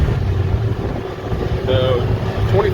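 A Kubota Sidekick 850 UTV with a two-cylinder Subaru engine drives along, its steady engine drone mixed with wind rush while someone talks over it.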